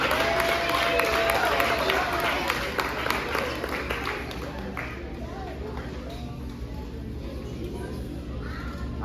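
At an end-of-year ceremony, an audience claps steadily to welcome a student, the applause thinning after about five seconds, with crowd noise and birds cawing underneath.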